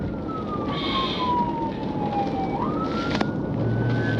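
A police car siren wails steadily during a nighttime highway pursuit, its tone sliding down then rising again over constant road and engine rumble, loud and close throughout.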